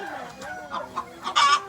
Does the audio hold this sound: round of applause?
no